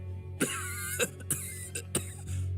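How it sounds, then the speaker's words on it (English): Harsh coughing comes in a series of about five sharp, raspy bursts spaced unevenly over a low steady hum, close and fairly loud. "Linton was coughing harshly between every couple of words"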